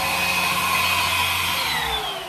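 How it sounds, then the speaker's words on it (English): A household vacuum cleaner runs steadily on the floor, a loud continuous whine with a low motor hum, easing slightly at the very end; no one speaks. "But I wanted to show you why I like my vacuum cleaner."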